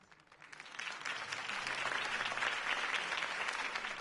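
Crowd applause after a campaign speech in a Batman video game: clapping from a large crowd swells up from quiet to a full, dense, steady roar and holds there, heard from a little distance.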